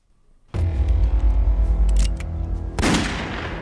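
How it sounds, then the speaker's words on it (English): A warning gunshot fires in the indie film Northspur, a sudden loud crack out of near silence followed by a sustained rumbling echo and a second sharp blast near the end. "The warning shot's going to keep them away."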